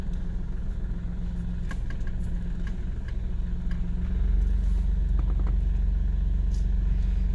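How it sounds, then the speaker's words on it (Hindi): A vehicle engine idles steadily and close by at night in a village at a forest edge, a constant low rumble that deepens slightly partway through, with no talk over it. "इंजन बंद कर लो।"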